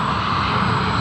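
Flight MH251 coming in at Sydney Airport, a brief, loud burst of steady aircraft engine drone close by.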